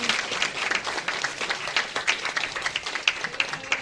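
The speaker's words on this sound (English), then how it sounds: "And please give them a round of applause as they come up here." Audience applause at a live storytelling event, a steady patter of many hands clapping at moderate distance with no voices over it.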